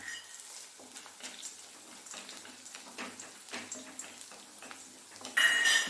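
Peanuts tipped into a pan of sautéed onions rattle and patter with light, uneven clatter over a faint sizzle, ending in a sudden louder burst.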